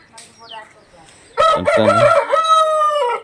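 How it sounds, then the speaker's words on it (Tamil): A loud rooster crow bursts in after a quieter opening of faint bird calls in a rural village, the long drawn-out call dominating the rest. "கோழி சத்தம் கேட்குது பாருங்க"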